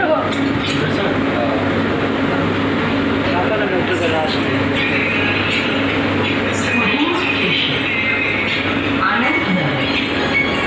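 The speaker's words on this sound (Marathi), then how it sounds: "आता दरवाजे बंद झाले इथं मेट्रोचे." A metro train's doors close and the train pulls away, with a continuous low rolling rumble, faint clinks and rattles, and voices chatting in the carriage over the running noise.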